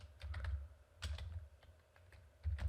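Short bursts of keystrokes as a Linux command is typed on a computer keyboard, soft clicks in three quick clusters with brief pauses, close up and quiet.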